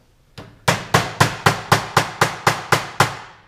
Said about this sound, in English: And just hammer it into place.